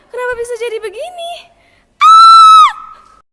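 A voice wails in broken, rising cries, pauses, then lets out one long, loud, piercing scream that trails off.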